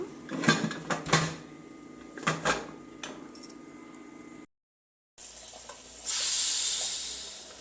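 A pressure cooker holding Mandya-style chicken chops gives a few sharp clattering bursts, then falls silent briefly before a sustained high steam hiss rises and slowly fades.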